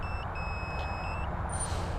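An RC drone's flight controller gives off steady electronic beeps as it disarms: two long tones, then a higher short one near the end, over a faint low hum.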